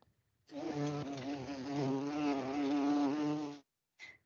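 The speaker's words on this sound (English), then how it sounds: "Bees." A swarm of bees buzzes steadily and close, a dense droning hum lasting about three seconds, used as an environmental sound in a children's story app, followed by a brief faint burst.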